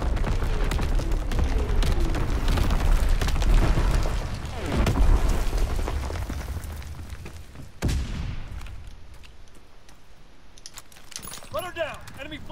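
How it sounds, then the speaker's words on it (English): Artillery strike explosions in a ranked multiplayer shooter: dense, loud booms and rumbling blasts layered over continuous battle noise, with a sharp impact near the middle followed by fading debris and scattered effects. "Firing for full effect. Target zone locked."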